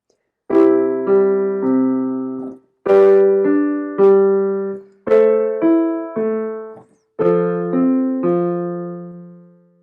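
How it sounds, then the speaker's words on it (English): Piano plays a low left-hand pattern of three notes per chord, a root, fifth and root again, repeated over four chords with sustained ringing tones. "the left hand is going to play root fifth root on each chord"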